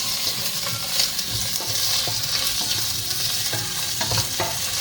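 Sinigang cooking in a pot at home, with a utensil scraping and stirring through the contents over a steady sizzling hiss; irregular clinks and knocks recur for several seconds, close and moderately loud, with no talk.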